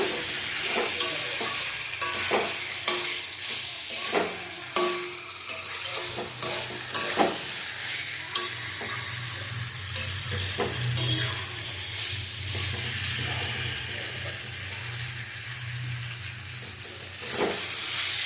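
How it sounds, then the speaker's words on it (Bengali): A spice masala sautéing in a pan for an egg, potato and papaya curry: a steady close sizzle with repeated scraping stir strokes throughout, no voices. "আমার কষানো হয়ে গেছে, মশলাটা আমি কষিয়ে নিয়েছি।"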